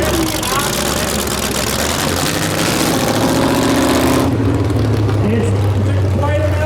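A 2006 Chevy Avalanche full-size V8 truck at a demolition derby rumbles at idle, loud and steady, with arena crowd noise and a voice talking over it.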